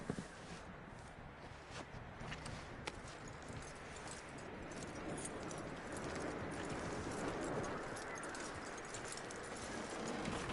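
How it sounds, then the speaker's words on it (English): Horse hooves clip-clopping at a steady walking pace in the video game Red Dead Redemption 2, faint and continuous under a broad noisy outdoor ambience, with no speech. "That looks like a decent horse."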